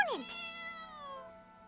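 A single drawn-out cat meow from the Genshin Impact video game, heard during the Genius Invocation TCG summit event at Yujing Terrace. It is clear, close and alone, with a falling pitch that fades over about a second.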